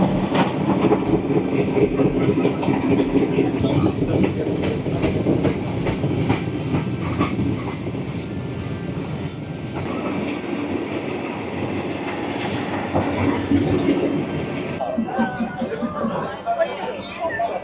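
A train rumbles and clatters past close by through a street market, its rolling noise steady for many seconds while people chatter and talk around it, at Maeklong Railway Market near Bangkok, Thailand.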